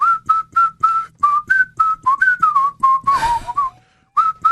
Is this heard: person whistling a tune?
yes